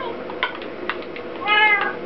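Cats meow in the Minecraft video game, a few short mews followed by a louder, longer meow near the end, with no one speaking over them.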